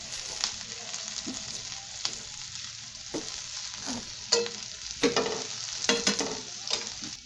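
Chopped garlic and chopped green chilies fry with onions in a pan, giving a steady close sizzle with scraping stirs that grow louder and busier in the second half.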